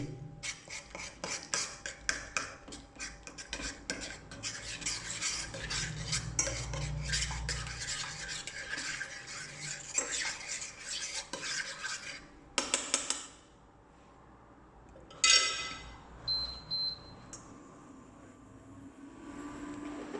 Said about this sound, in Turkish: kaşık yardımıyla biraz daha eritelim.